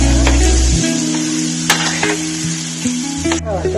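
Halwa ingredients fry in hot ghee with a loud, steady sizzle, broken by brief scraping stirs against the pan; close and unaccompanied by any talk.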